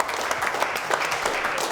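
A studio audience at a comedy show claps steadily as a sponsor's gift basket is carried out, a dense close ripple of hands with no talk over it.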